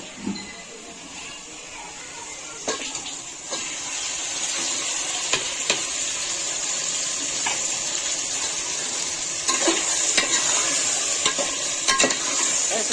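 Chicken frying in hot oil with ginger-garlic paste in a pot for biryani: a steady loud sizzle throughout, with a spoon scraping and clinking as it is stirred, and brief speech at the start.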